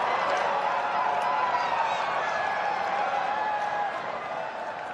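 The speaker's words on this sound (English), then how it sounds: "These Indian fans are going crazy." Cricket crowd at the Gabba, with Indian fans cheering and clapping in a steady, dense roar that stays loud throughout, slightly easing toward the end.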